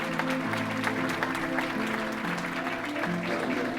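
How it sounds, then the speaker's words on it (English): An audience claps in a steady, continuous round of applause, mixed with sustained musical tones underneath. "We can give him a round of applause for that."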